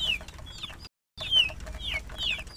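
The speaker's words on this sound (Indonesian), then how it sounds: "Di hadapan kita ini ayam-ayam ini" Farm chickens kept at a home poultry operation cluck and chirp in short repeated calls, several birds close by, with a brief dropout of silence midway.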